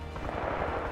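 Dense, rapid gunfire from the World War II shooter Rising Storm, a sustained run of overlapping close shots with no break across the whole second.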